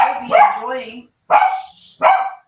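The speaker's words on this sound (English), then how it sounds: "her dogs are barking too at the same thunder" Dogs barking indoors during a thunderstorm, several loud close barks in bursts with short pauses between them, no talk over them.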